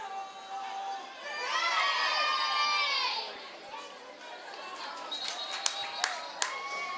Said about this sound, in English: Good crowd on hand tonight